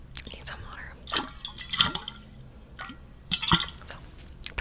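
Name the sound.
drinking water from a water bottle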